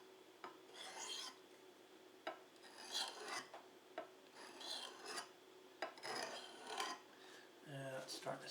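A knife blade with a saber grind is polished on an oiled sharpening stone in steady back-and-forth rasping strokes, roughly one per second, close and moderately loud, with a short knock near the end.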